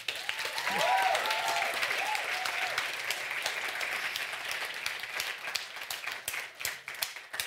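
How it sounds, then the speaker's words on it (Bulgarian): An audience at the Sivina puppetry awards ceremony in Bulgaria applauds the nominated young talents, a dense, sustained wash of clapping that swells early and thins toward the end, with a few voices rising briefly over it. "Моля отново за пореден път вашите силни аплодисменти"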